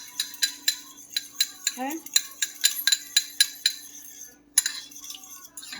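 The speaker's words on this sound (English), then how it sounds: "Let's go ahead and stir this greatness up." Ginger stirred in a pan while making mango salsa mahi mahi, a steady series of sharp utensil clinks and scrapes against the pan at a brisk rhythm, with a brief spoken word.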